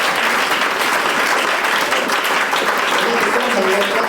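A church congregation applauds continuously through a French-language evening of teaching and prayer, steady dense clapping that fills the space with no gaps, loud and close.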